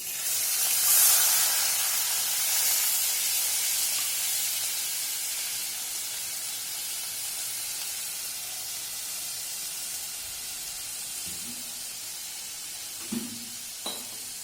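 Spice paste sizzling and hissing steadily in a hot pan for a simple rohu fish curry, a broad continuous fry with a few faint clinks near the end.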